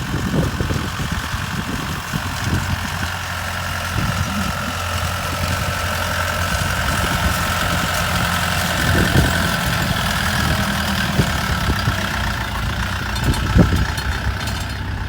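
A new tractor engine idles steadily nearby with a low, continuous rumble and a faint mechanical whine, unchanging for the whole stretch.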